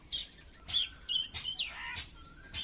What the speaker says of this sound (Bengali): চলো দেখি কি পাখি এসছে একটা শব্দ করেই যাচ্ছে